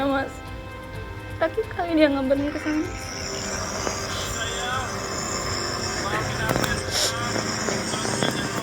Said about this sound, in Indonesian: Itu suara kapal sih ya